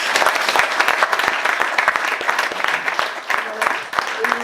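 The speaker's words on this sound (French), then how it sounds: "on vous applaudit." Applause from an audience at an evening talk event, a dense burst of many hands clapping close by for several seconds that thins toward the end.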